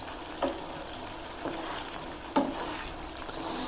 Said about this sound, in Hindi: इसी तरह हम हिलाते जाएंगे इसको आस्ता आस्ता ताकि नीचे से सूजी जो है हमारी लग ना जाए